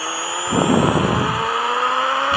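Engine revving from a car in a racing video game, a steady motor tone that swells into a louder rev burst for about a second before settling back, heard alone without talk.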